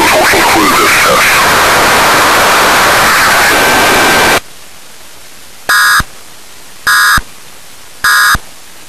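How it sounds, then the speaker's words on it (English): After a burst of loud broadcast static and noise, three short electronic data bursts of an emergency alert system test sound one after another, each harsh buzzing tone evenly spaced over near silence. "The following tones will conclude this test."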